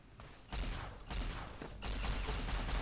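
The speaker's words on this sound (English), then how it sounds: "He's firing a gun." A gun fires in Fallout: New Vegas, a burst of rapid, fairly loud shots that starts after a brief quiet moment and keeps going as a dense fusillade.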